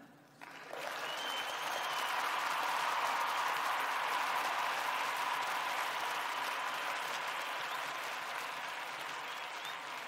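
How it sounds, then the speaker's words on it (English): A large audience applauds at the close of a talk on whole-body photobiomodulation for fibromyalgia, dense steady hand-clapping that swells within the first second and holds for about ten seconds. "And you may now clap your hands."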